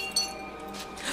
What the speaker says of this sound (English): cut through the glass.